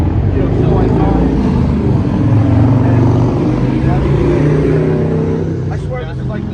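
Busy street traffic roars close by, a loud continuous rumble of passing cars and engines that holds steady and fades slightly toward the end, with people talking over it.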